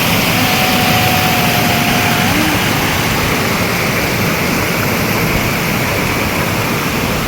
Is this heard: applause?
no